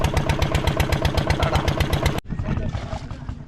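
Fishing boat engine near the shore, a loud, fast rhythmic chugging that suddenly cuts off after about two seconds, leaving a quieter low rumble with someone talking.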